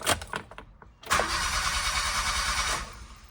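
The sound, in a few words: Honda Vamos engine starting with ignition key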